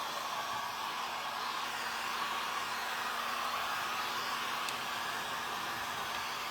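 A hair dryer blows on a painted metal tray, a constant close whooshing hum with a faint tonal whine, steady and unbroken throughout with no voices.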